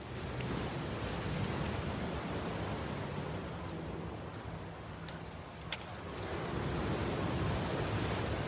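Big ocean waves at high tide by Redondo Beach Pier make a broad, steady roar of surf with a gentle swell and dip, heard from the shore under light wind.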